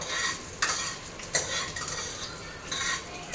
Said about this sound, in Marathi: तर आता आपल्याला हे हलवून परतून घ्यायचं आहे.